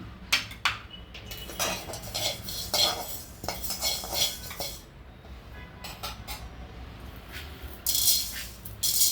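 Fenugreek and mustard seeds being dry-roasted in a kadai for instant ginger pickle, with repeated metallic scraping and clinking of a spoon against the pan, fairly close and steady, with no voices.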